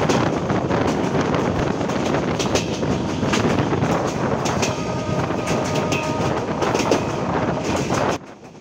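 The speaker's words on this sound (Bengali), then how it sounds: "আমাদের ট্রেন থ্রুপাস হয়ে যাচ্ছে আনসারবাড়িয়া রেল স্টেশন।" A Chitra Express train rolls along the rails through Ansarbaria station in Bangladesh with a dense, continuous rumble and rhythmic clatter, wind buffeting the microphone, then drops off abruptly near the end.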